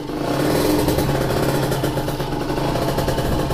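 Two-stroke Honda Tiger motorcycle engine idling and running through its exhaust in a workshop, a loud, close, continuous rumbling drone with a slightly uneven pulse throughout and no voices.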